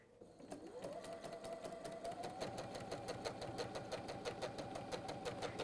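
A sewing machine whose needle is worn runs steadily at close range, giving a fast, even mechanical whirr with a regular clatter of the needle stroke that starts quickly and keeps going at a constant pace throughout.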